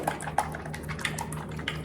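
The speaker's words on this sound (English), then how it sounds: "To this, we're adding a splash of water." A splash of water poured into a seasoning mix for pork chops, a short burst of soft liquid pouring with small drips and clinks, quiet and close, with no talk.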